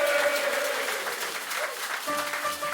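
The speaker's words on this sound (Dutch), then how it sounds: "Mag ik een applaus voor Ingrid, alsjeblieft?" Steady applause fills a crowded carnival café in Limburg for Ingrid, many hands clapping in a continuous wash with faint tones running underneath.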